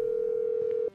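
An old in-game mobile phone in Grand Theft Auto gives a steady, loud electronic tone that holds unbroken for almost a second before cutting off abruptly.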